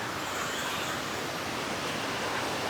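Waterfall at Lata Kinjang in Tapah, Perak, Malaysia: a loud, continuous broadband rush of falling water, close and steady throughout with no voices.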